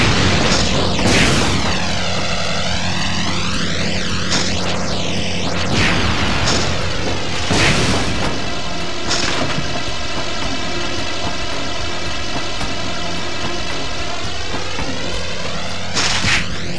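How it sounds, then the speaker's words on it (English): Out-of-control plane in the Spider-Man 2 video game, a loud, continuous roaring engine drone with sweeping pitch whines and repeated booming bursts throughout. "That plane's out of control."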